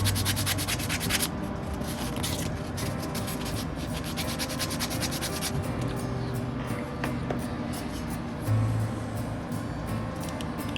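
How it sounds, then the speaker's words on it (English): Sanding a wooden part for a 1:200 scale HMS Victory ship model kit, a close, steady rubbing rasp with rapid back-and-forth strokes that pause and resume. "And we're going to sand it."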